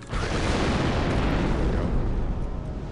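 A grenade goes off in Star Wars Republic Commando, a loud, dense roaring blast that fills the whole moment and rumbles on without letting up.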